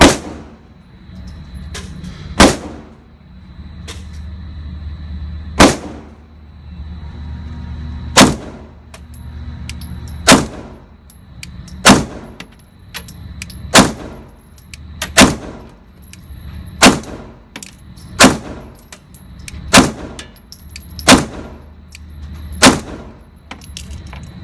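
CZ P-01 pistol fired at a target on a range, a string of sharp, loud single gunshots, slow at first and then in quicker succession, ringing with short echoes and no talking.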